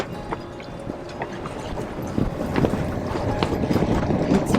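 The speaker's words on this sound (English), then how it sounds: "It's windy." Wind gusting steadily on a sailboat at sea, a rushing, buffeting noise that grows louder, with knocks and creaks from the boat mixed in.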